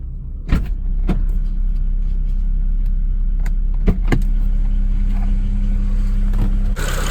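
A steady BMW engine idles with a faint, rapid valve ticking underneath, broken by a few sharp clicks and knocks, with no talking.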